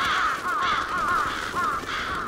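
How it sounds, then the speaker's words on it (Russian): Crows caw repeatedly in the video game Bloodstained: Ritual of the Night, a loud, harsh chorus of overlapping calls that runs steadily without a break. "Ух ты ж, это вороны?"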